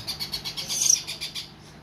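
Rapid, repeated bird chirps in a quick pulsing series, close and fairly loud, fading toward the end.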